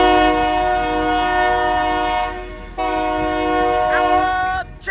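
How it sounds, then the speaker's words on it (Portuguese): A train passes close by, its loud multi-tone horn blaring in two long blasts with a short break between them, over a rumbling rail background. "Ó o trem voltando, ó."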